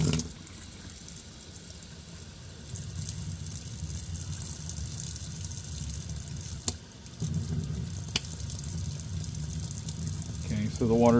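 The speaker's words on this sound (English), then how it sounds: "Let's go ahead and turn the water on." Cold tap water runs steadily through a Thermomate 1.3-gallon mini water heater (ES150B), a continuous broadband rush that briefly dips mid-way before resuming, with a voice speaking faintly near the end.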